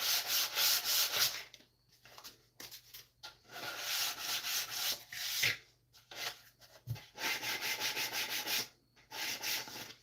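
Sandpaper rubs the sharp edges off wooden splines in a workshop, a close, dry scratching in quick back-and-forth bursts with short pauses between strokes.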